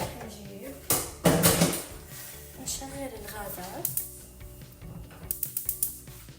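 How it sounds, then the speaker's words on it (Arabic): Gas stove burners clicking and igniting under two pots while cooking Syrian mahshi, with a series of mechanical ratcheting clicks, knob turns and metallic clatter, close by, with a voice speaking over parts of it. "شغلت الغاز على الطنجرتين"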